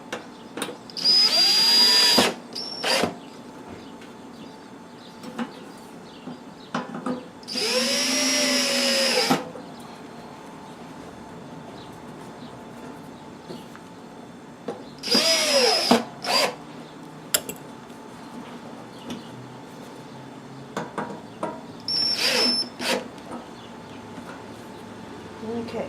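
A power drill fastens parts on a Kisco fan in several short bursts of whirring at close range, each rising and falling in pitch, with quiet pauses and small handling clicks between them.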